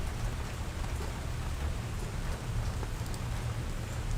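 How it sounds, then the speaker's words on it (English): Steady rain pours down during a passing storm, a dense, continuous hiss of drops on surfaces with a low rumbling undertone, loud and unbroken throughout. "it's just rain and it's going to be ending soon."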